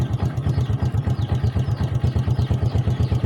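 Motorcycle engine starting and then idling steadily close by, with a fast, even pulsing putter and some mechanical clatter, heard alone with no talk, during a check of a half-wave rectifier regulator.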